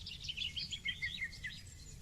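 Birds sing on a meadow with quick, bright chirps and short whistled trills over a soft low ambient rumble, lasting only a couple of seconds.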